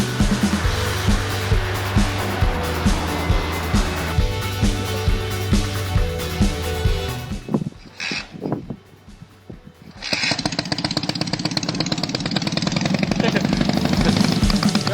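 A homemade motorcycle engine runs loud and close with a rapid pulsing putter, drops away briefly, then revs back up harshly as a voice is heard.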